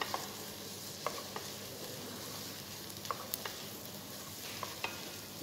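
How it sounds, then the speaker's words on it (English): Minestrone soup stirred in a pan, with a soft steady simmering hiss and a few light spoon clinks against the metal scattered through, fairly quiet and with no talk. "You can stir continuously."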